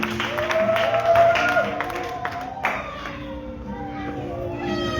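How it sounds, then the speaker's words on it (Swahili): A church congregation claps steadily and lets out high, trilling ululations during a lively service, the applause loud and close with joyful cries rising over it. "Patia Bwana makofi na vigelegele."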